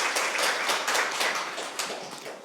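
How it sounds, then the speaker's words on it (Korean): An audience at a Korean parliamentary audit briefing session claps in dense, continuous applause that stays loud and steady, then begins to taper at the end. "네, 큰 박수 부탁드립니다."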